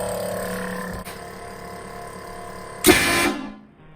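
HornBlasters train horn mounted in a vehicle's spare tire well, a loud sustained multi-tone blast that cuts off abruptly with a burst of air hiss and fades, recorded up close in a garage.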